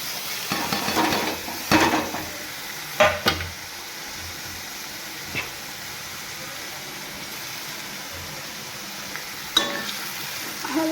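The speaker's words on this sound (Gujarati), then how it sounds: "હલાવશું સારી રીતે." Green tuvar beans with spices being stirred in a frying pan, a soft steady sizzle punctuated by several sharp scrapes and clinks of the spoon against the pan, fairly quiet and close.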